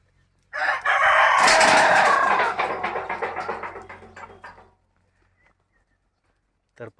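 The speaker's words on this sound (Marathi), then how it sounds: "आणि कोंबडा बघा आपला गावरान" A desi village rooster on a goat and poultry farm crows loudly and close, one long call trailing into a series of clucks, then silence with a brief later sound.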